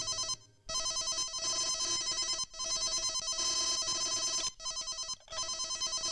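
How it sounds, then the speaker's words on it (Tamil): A telephone bell rings loudly in repeated bursts with brief silent gaps between rings, heard alone with no talking. "இன்னொரு பெல் அடிக்குதுங்களே."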